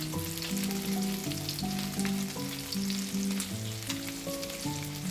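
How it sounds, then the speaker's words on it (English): Meatballs fry in a pan with a steady, close sizzle that runs the whole time beneath a soft melodic background tune, no voices. "Look at them sizzling and looking perfect"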